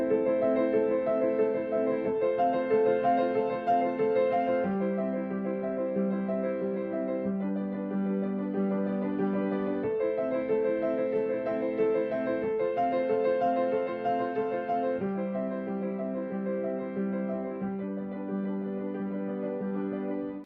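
Sustained piano chords, played with the sustain pedal, ring into one another, each change blending smoothly over the last, played steadily at a moderate volume with no talking.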